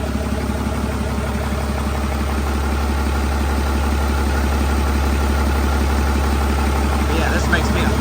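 A 6.7 diesel engine idles nearby with a steady, even low rumble and a rhythmic mechanical clatter that stays constant throughout.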